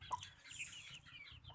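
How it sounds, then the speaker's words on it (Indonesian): Chickens cluck softly at a distance beside green rice fields, a few faint fowl calls over a low background rumble. "Ini juga ayam pipiluan."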